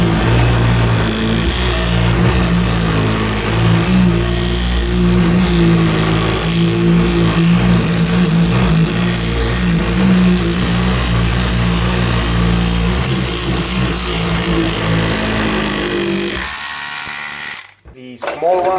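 A Silvercrest electric cleaning brush runs with a loud, steady motorized buzz and scrubbing over a dirty surface, continuing for a long stretch before cutting off near the end.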